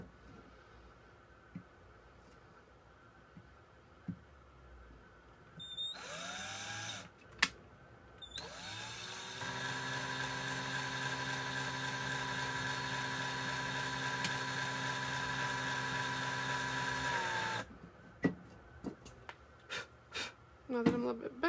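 A power drill bores a hole into a Starbucks tumbler, with a short first burst followed by a long steady whine that cuts off abruptly, with clicks and handling noises around it.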